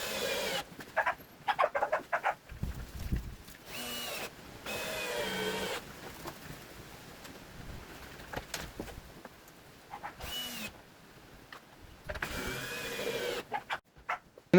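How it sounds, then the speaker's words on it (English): A power drill drives long screws into a wooden couch frame during a repair, several short whining bursts of varying length separated by pauses, with faint handling noise between them. "I can now start assembling it together by using long screws."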